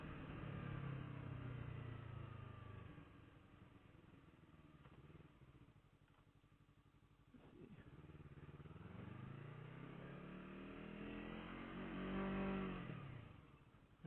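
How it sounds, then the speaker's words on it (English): Yamaha R3 motorcycle engine in the video game MotoCity, a steady mid-pitched drone that dips around the middle and then revs up again, loud and close with no talk. "If you can't tell, I'm riding a Yamaha R3"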